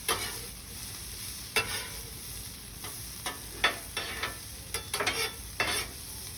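Asparagus frying on a very hot griddle, a constant close sizzle with scattered scraping and stirring taps from a utensil moving the spears around.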